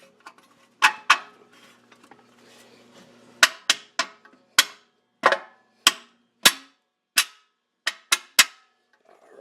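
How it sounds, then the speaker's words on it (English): A screwdriver poking and tapping inside a GM 4L80-E transmission during a rebuild, about a dozen sharp metallic clacks in an uneven rhythm, close and loud, after some faint fiddling noise at the start, with no talk. "Let me poke it a little bit with the screwdriver here, see if we can make a difference here."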